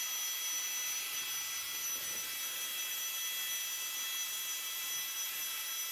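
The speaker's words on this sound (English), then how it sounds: "Flex tail gear, little mini USB air pump." A Flextail mini USB air pump inflating a sleeping mat while camping gives a steady, even, high-pitched whirring hiss that holds unchanged throughout, fairly quiet and alone.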